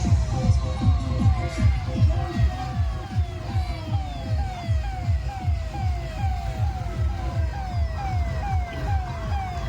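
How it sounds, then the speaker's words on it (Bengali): At a crowded Ram Navami rally in Pandua, an ambulance siren wails loud and close in rapid repeating rising sweeps. A deep rumble of vehicles and crowd runs beneath it. "র্যালি শেষ হওয়ার নাম নেই এখানে অ্যাম্বুলেন্স চলে এসছে"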